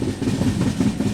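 A Duronto Express train crawls slowly along the rails, its carriage rumbling with a loud, close, rhythmic clatter of wheels heard from inside.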